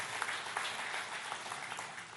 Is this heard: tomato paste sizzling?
no